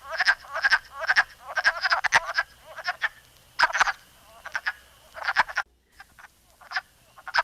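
Male wood frogs calling in spring woodland at Robin Hood Park in Keene, a chorus of rapid duck-like clucking croaks in repeated bursts, fairly close and loud, with a short gap near the end.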